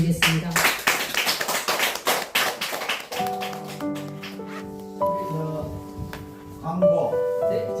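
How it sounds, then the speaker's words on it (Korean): A church congregation at a Sunday worship service claps in loud, rapid applause that fades after about three seconds into sustained organ or keyboard chords. "하나님께 영광의 박수를 올려드리겠습니다."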